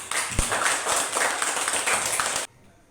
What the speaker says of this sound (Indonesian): Oke, tepuk tangan dulu semua.